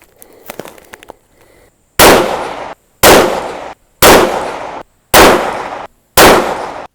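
Five loud, sharp 6.5 Creedmoor rifle shots at an outdoor range, firing a 140-grain Sierra MatchKing load over H4350 powder with the rifle rested on a bag of rice, evenly spaced about a second apart after a few faint clicks.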